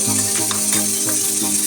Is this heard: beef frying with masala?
yes